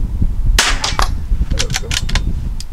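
Rifle shots from a .22 LR fired at targets outdoors, several sharp cracks spaced irregularly over a few seconds, loud and close over a steady background rumble.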